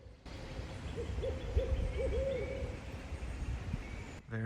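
Distant hooting from a barred owl, several rising and falling calls in quick succession, set against quiet outdoor background noise.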